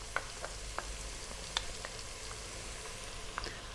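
Tomato paste frying in a chicken stew pot, a steady close sizzle punctuated by scattered clicks and scrapes of a spoon stirring, with no voices.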